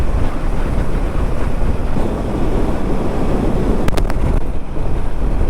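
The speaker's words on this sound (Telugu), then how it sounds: "గాలి మాత్రం విపరీతంగా ఉంది," Strong wind buffets a moving motorcycle on a road trip from Hampi to Nellore near a hill fort, making a loud, constant, rumbling roar of wind against the microphone with no speech.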